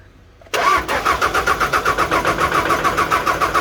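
Four-cylinder engine of a small dump truck cranking with a rapid rhythmic chug, loud and close, right after a quiet start, cranking steadily without catching yet.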